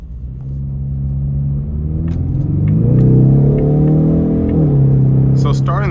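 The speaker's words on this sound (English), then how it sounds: "It's a very menacing sound having that active valve performance exhaust." Exhaust of a 2025 Ford Mustang EcoBoost Premium with active valve performance exhaust while driving, a deep rumbling drone that swells as the engine revs up, then settles to a steady cruise, heard from inside the car.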